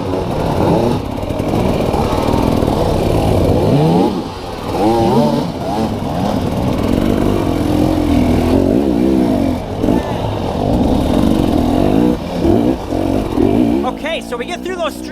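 Dirt bike engine revving and bogging through an enduro race course on the Tennessee Knockout, loud and continuous with shifting pitch, a voice talking over it throughout.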